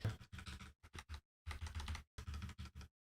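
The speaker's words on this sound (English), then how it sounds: "Honestly, the function keys feel a little slower on the HyperX keyboard." Function keys tapped on a HyperX Alloy Origins mechanical keyboard, a close series of firm clacky presses in short uneven bursts with brief pauses between groups, no voices.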